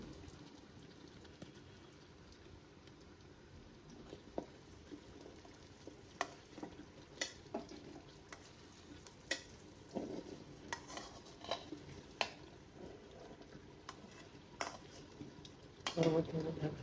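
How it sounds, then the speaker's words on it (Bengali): Beef and potatoes are stir-fried in a pan under a faint, low sizzle, broken by scattered sharp clinks and scrapes of a utensil against the pan. "আলু দিয়ে একটু কষাবো।"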